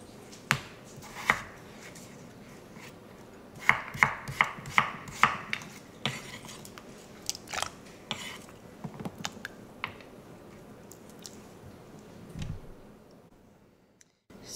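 Yukon Gold potatoes for potato salad are chopped on a board in a run of sharp, close knife knocks, sometimes quick and clustered, sometimes sparse, tapering off near the end with no talking.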